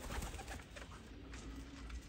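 Sialkoti pigeons, a pair, coo softly in a low steady murmur, close by, with a constant background hum and no talking.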